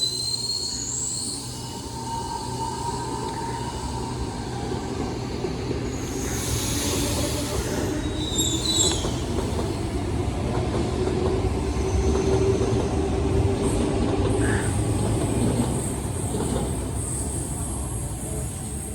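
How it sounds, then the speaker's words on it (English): A Sydney Tangara train departs a platform at Sydenham, a steady rumbling roll with high wheel squeals rising at points over continuous station background noise. "there is also a Tangara departing platform"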